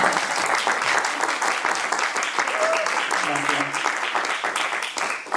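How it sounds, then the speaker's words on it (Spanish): A conference audience claps steadily through a talk on trans women in women's football, a dense, continuous wash of applause from many hands with no break. "Va a aplaudir, que yo también."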